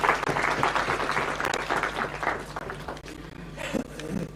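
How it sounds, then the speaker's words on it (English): Audience applause for a guest, a former secondary-school maths and science teacher, at a formal introduction of guests: a steady, dense wash of many hands clapping throughout, fairly distant and even, without speech over it. "An applause for him, please."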